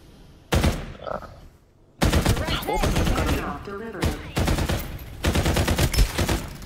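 Bursts of rapid automatic AK rifle fire in the video game Farlight 84, loud and close, in several long strings separated by a brief pause, with some game background noise.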